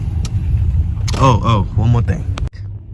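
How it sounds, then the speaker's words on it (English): A Lexus car driving, with a low, steady engine and road rumble close inside the cabin while someone talks briefly over it. "Driving a Lexus right now."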